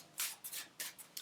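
Quick papery riffling bursts, three or four short shuffles in a row, close and fairly quiet, no voices.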